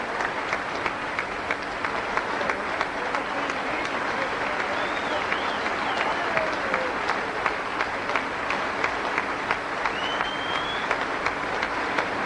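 A crowd applauds a newly crowned world snooker champion after the 1982 final, with dense, steady clapping filling the hall from start to finish and a few scattered whistles and cheers rising over it.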